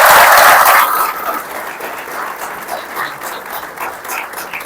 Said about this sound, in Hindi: तो तालियां आप बजा सकते हैं.